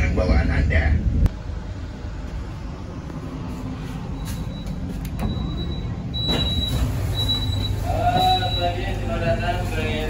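Logawa train pulling into Kroya station, a steady rumbling rail roar with brief high wheel squeals toward the end, heard from on board alongside a station announcement.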